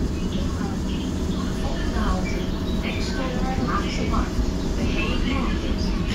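Inside a moving GT8 articulated tram in The Hague, a steady rumbling ride noise with squeals and rattles runs throughout, loud and continuous.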